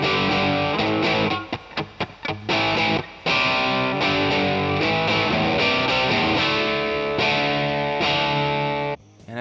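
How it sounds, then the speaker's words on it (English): Electric guitar run through a Marshall amp emulation, a thick, distorted tone with chords and riffs played continuously for several seconds, with a few brief choppy stops early on, loud and close. "Here's the sound of a Marshall emulation."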